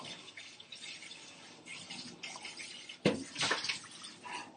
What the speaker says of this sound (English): I'm going to rinse this out real quick.